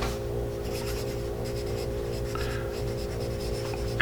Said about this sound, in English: Carpenter pencil.